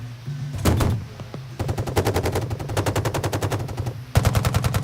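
Guns fired on an outdoor range for the game Socom Confrontation: a few loud near shots, then long rapid automatic bursts in a fast, even rhythm, with no talk.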